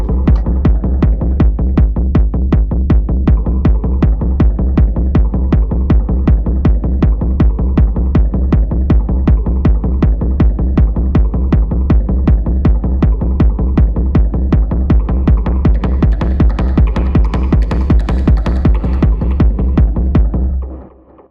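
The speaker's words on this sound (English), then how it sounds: "Lastly, I have this frequency shifting method." Techno bassline made by frequency-shifting a delayed kick drum input with a boosted 144 Hz band, pulsing in a steady, loud, driving rhythm for about twenty seconds, growing brighter near the end before cutting off.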